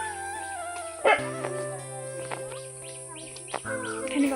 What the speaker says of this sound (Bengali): কুকুরগুলো কি দেখেছে রে?